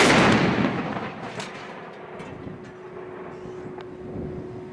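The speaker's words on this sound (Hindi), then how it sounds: "थोड़ी सी तोपों की धड़क भी हम सुन लेते हैं, जिन तोपों की आवाज़ से पाकिस्तानियों के दांत खट्टे हुए थे, हमारी बोफोर्स गन्स" Bofors artillery guns from the 1999 Kargil war boom loudly at the start, then a long rumbling reverberation fades slowly, with a steady tone and scattered distant bangs continuing beneath.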